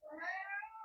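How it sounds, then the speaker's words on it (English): A hungry house cat gives a single short, clear meow close by in a quiet room. "that's my cat meowing, he wants his dinner"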